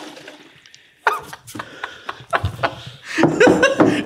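About ten liters of trapped water gushes and splashes out of a car's removed spoiler after painting, in loud uneven bursts and gurgles, while people laugh and talk excitedly around it.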